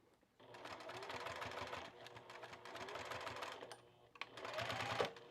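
A domestic sewing machine understitches a facing on kite pants, running in close, steady whirring bursts that stop briefly and then restart, with a short, sharper run at the end.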